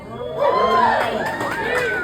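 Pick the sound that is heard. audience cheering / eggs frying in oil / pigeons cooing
audience cheering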